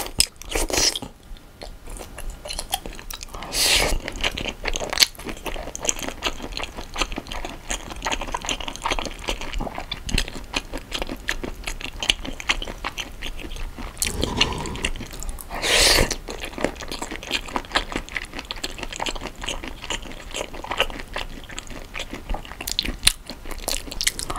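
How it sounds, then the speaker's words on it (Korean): Close-up crunching and chewing of soy-sauce-marinated raw shrimp with tails on, steady wet bites and crunches throughout with a few louder snaps, no talking. "꼬리 달린 새우부터 빨리 먹어 치우고"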